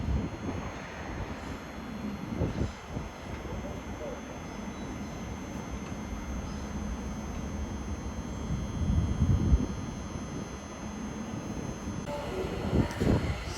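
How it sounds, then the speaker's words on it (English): A Thameslink Class 700 train idles and rumbles at a London terminus, with low engine and traction hum, a high steady whine and station ambience, under a faint announcement voice. "1022 Thameslink service to Finsbury Park from Brighton, led by 700"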